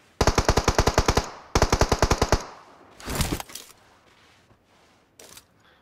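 Automatic weapon fire in the mobile battle royale game PUBG Mobile: two loud, rapid bursts of evenly spaced shots, followed by a sharper blast and fainter scattered reports trailing off.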